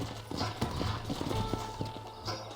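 Horse hooves clip-clop in a steady rhythm in the video game Red Dead Redemption, close by, with a low rumbling background and a brief whinny-like tone in the middle.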